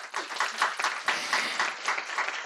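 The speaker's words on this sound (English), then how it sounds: "Please join me in giving our speakers a round of applause." Audience applause at a female founders event, a steady wash of many hands clapping at moderate volume, with some overlapping voices and cheers mixed in throughout.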